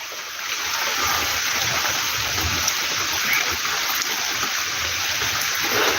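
Rain falling in a village, a dense, even hiss of drops pattering on trees and ground, loud and close and unbroken from start to finish, with no voices.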